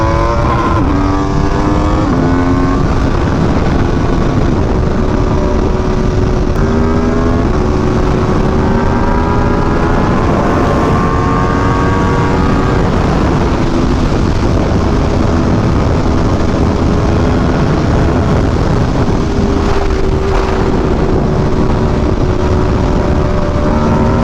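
An Aprilia RSV4 Factory motorcycle roars loud and close while riding, its engine pitch climbing through gears with shifting whine and steady wind rush throughout.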